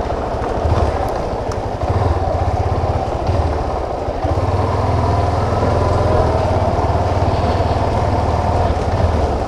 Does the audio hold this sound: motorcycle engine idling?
yes